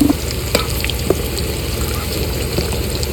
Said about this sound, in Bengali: তেল গরম হয়ে গেছে বন্ধুরা এবার দিয়ে দেবো গোটা গরম মশলা ফোড়ন